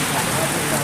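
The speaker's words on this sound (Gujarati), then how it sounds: "વરસાદ ચાલુ થઈ ગયો" Rain begins falling outdoors, a short burst of dense, even pattering hiss on surfaces, close and fairly loud throughout.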